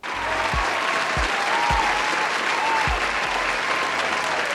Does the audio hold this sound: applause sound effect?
yes